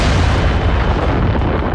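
Massive long-range German siege cannon, the Paris Gun with three welded barrels, firing from 75 miles away; a loud, sustained deep rumbling boom fills the whole stretch with no voices.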